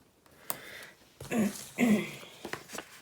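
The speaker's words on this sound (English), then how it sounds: "Sorry for having to clear my throat." Two short, rough throat clearings close to the microphone, separated by a brief pause, with faint room noise and small clicks around them.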